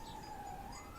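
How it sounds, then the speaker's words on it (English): A police or ambulance siren sounds faintly outside, a steady wailing tone that rises slightly near the end, distant and quiet with no talk over it. "can't remember if that's police ambulance or what it is"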